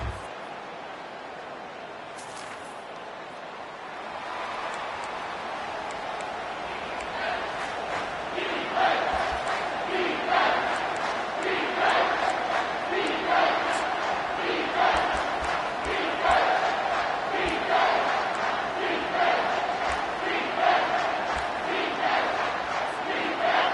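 A football stadium crowd roars after a touchdown, a broad sustained wall of cheering that swells and surges in waves over more than twenty seconds.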